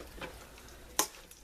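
Shredded cabbage and kale slaw being stirred with mayonnaise, a soft, muffled mixing with two brief, sharper scrapes of the spoon against the bowl, the second one louder.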